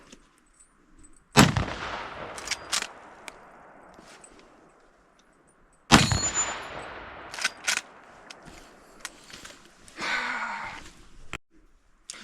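Two loud rifle shots, around the 1.5 and 6 second marks, hit Shasta soda bottles outdoors, each with a sharp crack and a trailing echo, followed by fainter clatter and small impact sounds between them.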